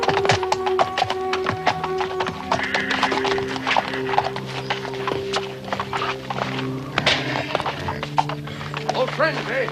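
An old, tired horse plods along with steady wooden clip-clop hoofbeats, close and fairly loud, with an occasional whinny, while people talk over the walking.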